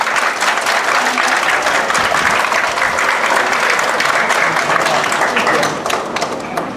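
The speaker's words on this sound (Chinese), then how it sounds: "大家掌声鼓励。" Applause fills a kindergarten graduation ceremony at a Catholic preschool in Douliu, Yunlin, Taiwan, steady dense clapping from a large audience lasting throughout and tapering slightly at the end.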